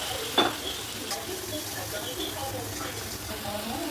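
Spice paste with green chillies and poppy seed paste frying in a pan for a Bengali ruhi posto dish, a steady, moderately loud sizzle with occasional stirring scrapes that runs through the clip with no voices.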